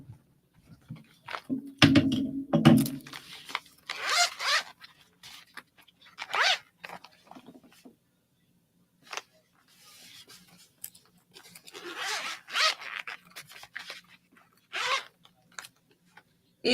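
A zipper on a pencil case is pulled open in a short scratchy burst, followed by faint rummaging and soft handling clicks close to the microphone in an otherwise quiet room.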